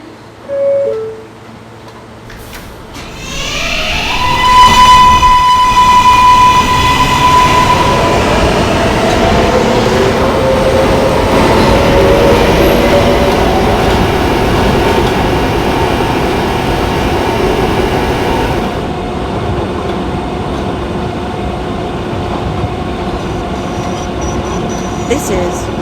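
An R143 subway train on the N line pulls out of a station with a rising electric motor whine over a loud, steady rumble of wheels, easing slightly toward the end.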